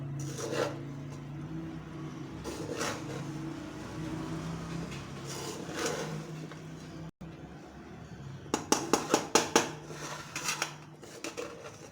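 Mutton kofta biryani is stirred in a metal pot, with scraping and clinking of a spoon against the pot, a run of quick sharp scrapes near the end, and a voice speaking at times.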